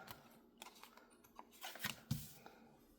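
Scissors trimming paper, a few quiet scattered snips and rustles over three seconds, close but faint, with a slightly sharper crunchy cut near the end.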